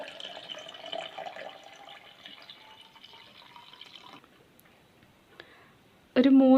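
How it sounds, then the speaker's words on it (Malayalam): Water poured into blended water apple juice makes a soft, steady trickle for several seconds that gradually thins out, followed by a sudden loud knock or clatter at the end. "അപ്പോൾ ഇതിൽ ജ്യൂസിന് നമുക്ക് അത്യാവശ്യം വെള്ളം ഒഴിച്ച് കൊടുക്കണം."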